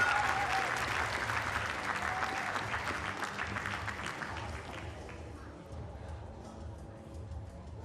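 Home crowd at an artistic gymnastics World Challenge Cup in Koper roars and applauds a gymnast, a dense, loud wash of clapping and cheering that slowly fades across eight seconds.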